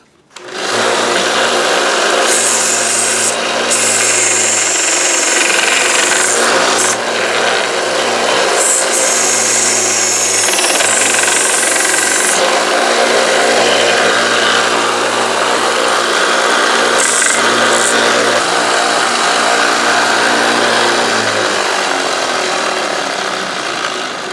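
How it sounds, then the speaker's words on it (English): A small belt sander grinds a wooden whirligig piece down to a marked line, a loud steady whine running continuously with brief dips and surges as the wood is pressed against the belt. "I'm going to use my little belt sander and bring it right down to the line here"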